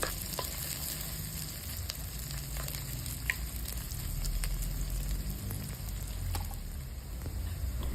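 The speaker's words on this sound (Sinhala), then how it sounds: "මේ ටික ආපහු ටිකක් බැදෙන්න කලවම් කරන්න ඕන." Small pieces of coconut sizzle steadily in a pan of hot oil as they are stirred and fried, a continuous close crackle with occasional scrapes and no voices.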